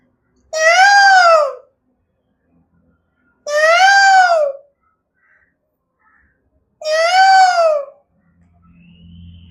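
Three drawn-out, rising-then-falling nasal cries from a human voice imitating a peacock call, evenly spaced with pauses between, loud and close.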